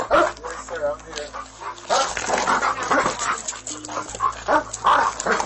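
A police dog barks and yips repeatedly at a shed, loud and close, with an officer shouting warnings over it almost throughout.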